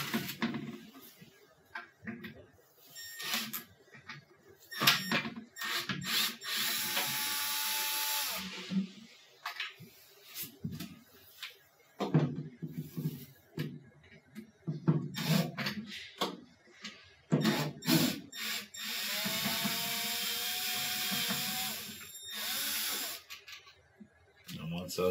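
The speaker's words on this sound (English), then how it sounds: "we're just going to be removing the 2 T15 Torx screws on this side of the lid here." T15 Torx screws are being backed out of the lid of a Whirlpool, Maytag or Roper washer, giving repeated short scraping, rattling tool and screwdriver sounds in irregular bursts, close and fairly quiet, with talking in between.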